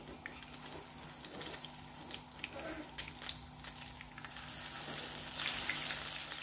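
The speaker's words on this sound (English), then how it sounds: "I'm adding my fish. The oil is hot." Fish fries in hot oil in a pan, a soft continuous sizzle and crackle heard close and fairly quiet, swelling slightly toward the end.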